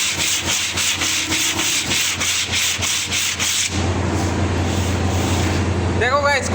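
Wooden furniture is rubbed and sanded by hand for finishing in a workshop, with quick, regular strokes at first that give way to steadier abrasive scraping, and a voice talks over the work.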